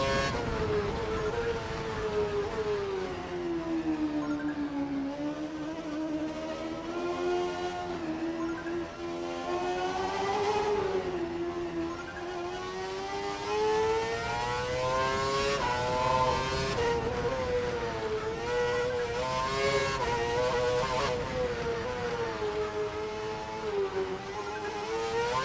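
Formula 1 car from the F1 2012 racing game lapping a wet track, a continuous loud high-pitched engine whine rising and falling through gear changes and corners, with no speech.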